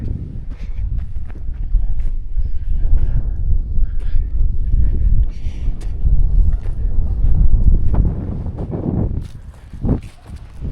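Strong wind gusts across a crop field on a windy day, buffeting the microphone with a loud, low, uneven rumble that surges and eases, with a few scattered knocks and rustles.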